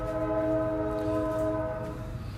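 A train passes with a sustained, loud horn blast holding steady chord tones over low rumble throughout, with no talk.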